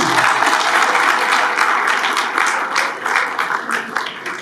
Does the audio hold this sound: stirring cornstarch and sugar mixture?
no